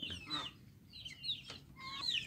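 Chickens cluck and squawk in short bursts at close range in farm coops, with a few higher calls rising over a low background murmur.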